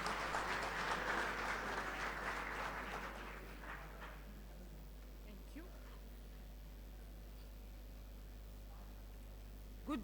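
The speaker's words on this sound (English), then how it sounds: "A round of applause for..." An audience applauds a district administrator at a Zimbabwe ICT Innovation Fund launch. Fairly loud clapping fills the first few seconds, then fades over a low steady hum, leaving quiet room noise.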